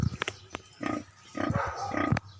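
A sow that has just given birth to piglets grunts and snorts in a farm pen, with several close, rhythmic grunting bursts and a few sharp clicks between them.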